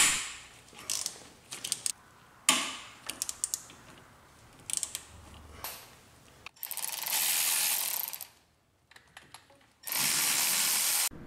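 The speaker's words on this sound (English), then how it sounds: "Remove the bottom two AC compressor bolts." Hand ratchet loosening the bottom 12 or 14 mm AC compressor bolts on a Mazda Miata during engine removal, heard as bursts of rapid clicking pawl strokes with pauses between them, close and fairly loud, with no voices.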